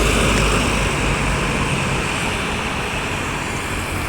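Road traffic on Jalan Soekarno-Hatta, part of the Lintas Timur route in Sumatra, a loud continuous broadband roar of passing vehicles, steady and close, with no distinct individual passes.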